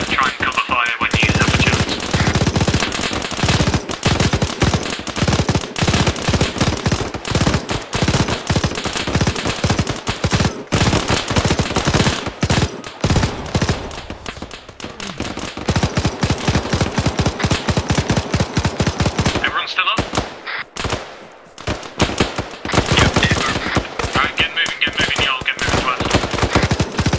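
Sustained machine gun cover fire during an Arma 3 assault on an African militia's weapons cache among buildings, loud, dense bursts of automatic gunfire running nearly continuously with brief gaps and a short lull near the end.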